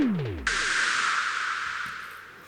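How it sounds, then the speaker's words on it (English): Synthesized white noise hit in a remix: a sudden bright hiss that bursts in after a falling tone and slowly fades over two seconds, heard alone. "with this I've paired it with a white noise sample"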